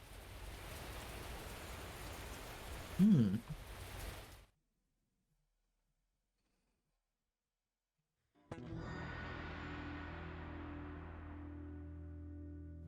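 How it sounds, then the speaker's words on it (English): Rain pouring on an empty street in the visual novel game Kikokugai: a steady hiss of heavy rainfall with a brief thump, cutting to silence for several seconds, then returning as a dense downpour. "And then there's nothing left in the empty street but the ceaseless pouring of the rain."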